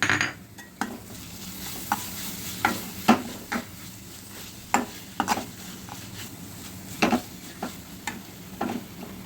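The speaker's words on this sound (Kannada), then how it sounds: "ಸೊ ಇದನ್ನು ಸ್ವಲ್ಪ ಫ್ರೈ ಮಾಡ್ಕೊಳ್ಳೋಣ." Pulao masala with chilli powder and pepper frying in a pan, a low steady sizzle broken by repeated scraping stirs of a spoon against the metal at an uneven rhythm, close and alone.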